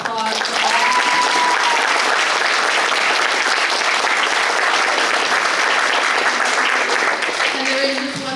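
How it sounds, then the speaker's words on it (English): An audience at a CHS band banquet gives a round of applause: dense, steady clapping that holds at an even level for the full stretch, with faint voices mixed in. "So please give a round of applause for all"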